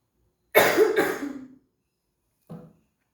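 A woman coughs twice in a quick burst, close and fairly loud, followed after a pause by a single softer, shorter cough in an otherwise quiet room.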